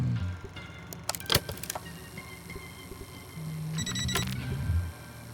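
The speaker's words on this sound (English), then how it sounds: "It's a smoke detector." A smoke detector alarm beeps in the video game Retropolis 2: a brief burst of high electronic beeps comes late, amid scattered clicks and clanks in a quiet scene.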